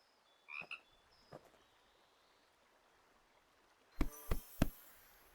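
A frog named Puddles near the water in the video game Pumpkin Panic gives a few short, sharp croaks early on, then after a quiet pause a quick burst of three croaks, close and clear over a faint background.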